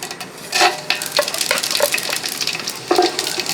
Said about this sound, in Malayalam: അപ്പോൾ ആ ബാക്കിയുള്ള എണ്ണ ചൂടായിട്ടുണ്ട് നമുക്ക് ഇതിനകത്തോട്ട് നമ്മൾ നേരത്തെ പരിചയപ്പെടുത്തിയ മസാലയൊക്കെ ഒന്നിട്ട് കൊടുക്കുകയാണ്